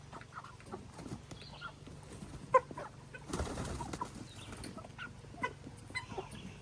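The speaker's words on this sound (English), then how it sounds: "The meat birds are up and they're at it." Meat chickens feed at breakfast time on a homestead, giving soft clucks and scattered pecking taps against a steady low background, with a sharper cluck standing out now and then.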